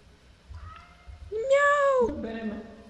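A video game cat lets out a loud, drawn-out meow with a rising then falling pitch, followed by a shorter lower cry, heard over soft background game sounds.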